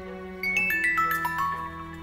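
A mobile phone rings with an incoming call, a melodic ringtone of rising and falling tones that starts suddenly and plays on clearly over a low steady hum, with no talk over it.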